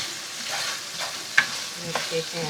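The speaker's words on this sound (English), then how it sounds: "you mix all that up with your potatoes and start that in the frying process too" Soft, steady sizzling of potatoes frying with spice paste for a coconut curry, with a few light scraping stirs and clinks, fairly quiet and close, no voices.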